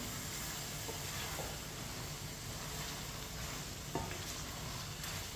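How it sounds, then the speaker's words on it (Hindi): Chopped pumpkin cooking in masala for dal kaddu, a constant loud sizzle and hiss with faint scrapes of a spoon stirring the pan, steady throughout and without talk. "2 मिनट के लिए पका लेंगे कद्दू को ऐसे ही चम्मच चलाते हुए।"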